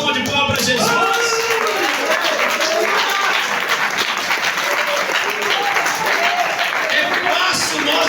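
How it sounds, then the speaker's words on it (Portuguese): Audience applause for Jesus at a Portuguese-language church service, a dense, loud wash of steady clapping from a crowd that carries on unbroken throughout. "Você pode dar uma salva de palmas para Jesus?"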